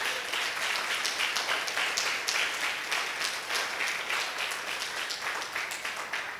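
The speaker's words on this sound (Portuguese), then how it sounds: "Aplauda a Jesus bem forte." A church congregation applauds loudly during a sermon, a thick, continuous wash of clapping from a large crowd that holds steady for several seconds.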